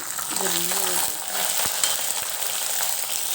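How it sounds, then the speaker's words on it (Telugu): Slit green chilies fry in oil with coriander seeds on a low flame for a bottle gourd chutney, giving a steady close sizzle with a few soft clicks and a brief faint tonal whine. "ఇవి బాగా ఫ్రై అయిన తర్వాత మనం 2గా చీల్చి పెట్టుకున్న పచ్చిమిర్చి ముక్కల్ని వేసుకోవాలి"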